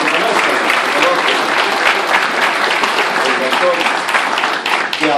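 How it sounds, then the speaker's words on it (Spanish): Applause fills a hall at a physics book presentation, a loud, dense and continuous clapping from the gathered audience, steady from start to finish, with voices mixed in beneath it. "yo quisiera un aplauso para mi amigo."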